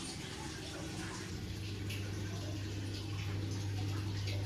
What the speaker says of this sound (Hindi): मैंने इसमें थोड़ा सा बाल्टी से पानी डाला